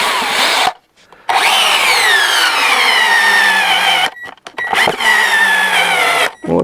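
A cordless drill-driver running at second speed drives a screw in with a loud whirring hum that rises and falls in pitch. It runs in three spells separated by short pauses, with no talk.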